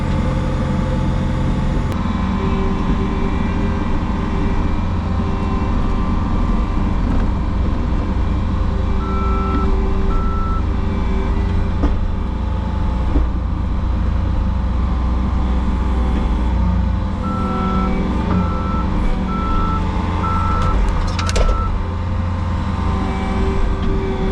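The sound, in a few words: dump truck reversing beeps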